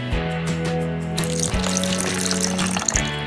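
A quarter cup of water pours into a slime mixture of glue and baking soda, a steady close trickle and splash lasting a few seconds.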